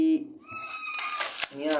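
A cat meows indoors during a Bible study, with a short tonal meow at the start and another rising one near the end, close and moderately loud, separated by a noisy burst.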